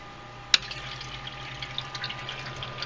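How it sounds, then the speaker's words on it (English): Water running through the tubing of a dual-loop liquid cooling setup for an Xbox and Wii, a steady soft gurgling wash with a single sharp click near the start. "See the water flowing right there"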